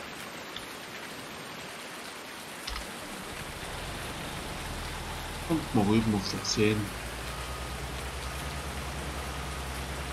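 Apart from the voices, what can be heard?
rain in the video game Farming Simulator 19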